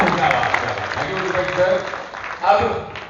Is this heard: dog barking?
no